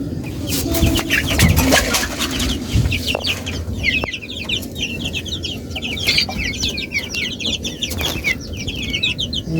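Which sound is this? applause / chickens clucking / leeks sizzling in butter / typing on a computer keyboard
chickens clucking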